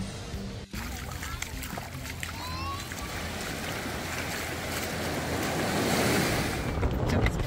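Ocean surf rolls onto a beach in a broad, continuous roar that swells louder toward the end, mixed with gusting wind.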